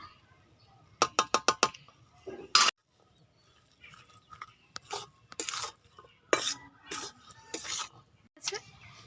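Spoon stirring ghugni chaat, a spiced dried-pea snack, in a metal pot, giving sharp scraping clinks in quick bursts with pauses between, fairly close and moderately loud, with no talking.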